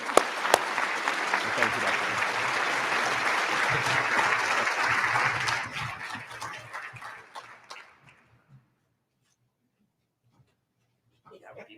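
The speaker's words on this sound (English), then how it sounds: "So honor all them with a warm round of applause." A luncheon audience gives a warm round of applause for about six seconds, dense and steady, then tapering off into quiet; a voice speaks briefly as the clapping fades.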